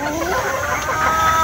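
Hens cluck and murmur nearby in a short, uneven burst of chicken sounds.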